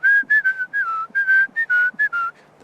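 A person whistles a short wavering tune while walking outdoors, a series of clear, close pitched notes with brief gaps between them, no talking.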